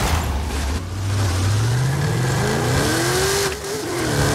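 A 1968 Pontiac Firebird with heavy quarter-mile modifications in a Forza Horizon 5 drag race, its engine droning loud and steady, then revving up through rising pitch with a brief dip as it shifts, close and continuous, with no talking.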